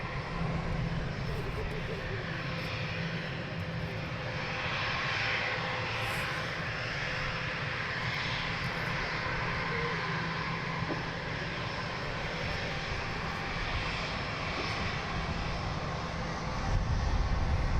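A DHL cargo aircraft inbound at London Luton Airport produces a broad, steady engine roar that lingers in the distance, with a commentator's voice talking over it.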